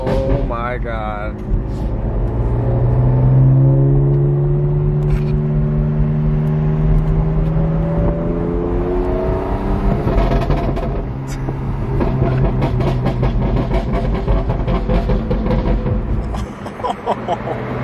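A BMW M3 Competition with stage 2 tune and decat downpipe revs up loudly, the engine note sweeping higher and holding, then settling into crackly burble; people talk over it now and then.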